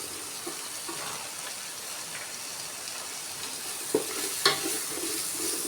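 Beef fries in a pan with turmeric as it browns, a quiet, steady sizzle broken by a couple of brief scraping stirs.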